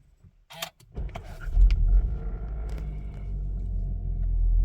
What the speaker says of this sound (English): Now we need to start the car for the power steering to work.